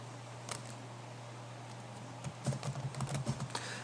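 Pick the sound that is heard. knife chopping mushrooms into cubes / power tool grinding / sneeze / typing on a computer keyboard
typing on a computer keyboard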